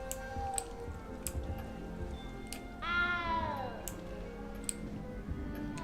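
A cat in Hogwarts Legacy lets out a single clear, drawn-out meow midway, set against quiet game ambience and scattered small ticking sounds.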